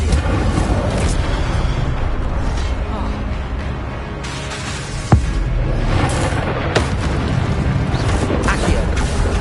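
Incendio fire spell blasts in Hogwarts Legacy, a busy game soundscape of whooshing magical bursts with one sharp bang near the middle, spells repeating over constant effects.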